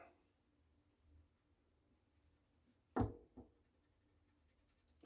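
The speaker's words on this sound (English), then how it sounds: "I am going to do this in pencil." A pencil moves over paper while a character is sketched, giving faint, steady scratching in a quiet room, broken by a sharp tap near the middle and another at the end.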